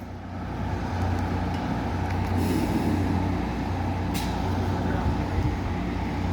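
A WWII M5A1 Stuart tank backs up, its engine giving a steady, loud low rumble with clanking undertones that holds for several seconds, with a brief hiss partway through.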